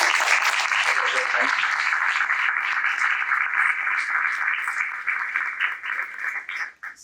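Audience applause at a disability and rights conference panel, a dense sustained clapping that holds steadily and then thins out and tapers near the end.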